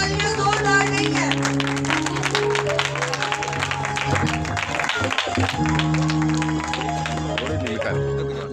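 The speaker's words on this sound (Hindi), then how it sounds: "आपकी तालियां जोरदार नहीं है।" A church audience at a Pakistani healing meeting claps under loud amplified music, a steady dense patter of applause with voices mixed in throughout.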